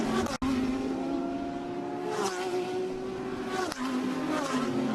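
GT race cars in the 2016 ADAC GT Masters at the Sachsenring, among them a Porsche, roar past in a loud continuous engine drone, with gear changes and shifting revs and a few brief sharp dips as cars go by.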